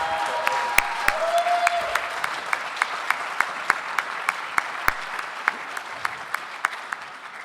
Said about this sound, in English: give this man really a round of applause